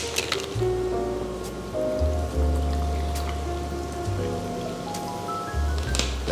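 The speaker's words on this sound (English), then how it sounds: "add in our soda water" Soda water pours into a fruit bubble tea, a steady fizzing, trickling splash with bubbling and low gurgles running throughout, close and moderately quiet with no talking.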